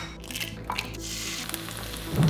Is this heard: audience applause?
no